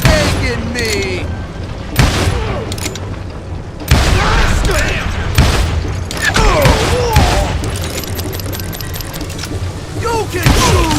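Gunfire in Call of Juarez Gunslinger: sharp, loud shots cracking out singly and in bursts, with echoing booms and clattering mechanisms, while voices speak over the action.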